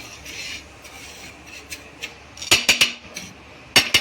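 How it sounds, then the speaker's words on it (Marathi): Rice roasting in a pan while a metal spoon stirs it, giving soft rasping scrapes and then several sharp clattering knocks against the pan toward the end. "चला तर आपले आता तांदूळ असे भाजून घ्यायचे."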